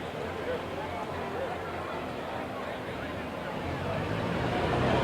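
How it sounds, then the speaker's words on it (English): A pulling tractor's exhaust roars at a bush-pullers tractor pull at the Platte County Fair in Nebraska, a dense, steady, broadband rush that swells slightly louder toward the end, with faint crowd babble and speech mixed in. "you can hear all that air getting forced out of that exhaust pipe"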